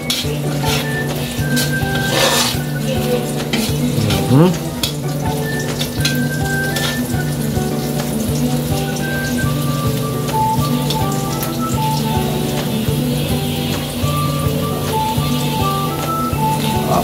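Meat fries in a pan with a constant crackling, rain-like sizzle close up. Light music plays underneath throughout.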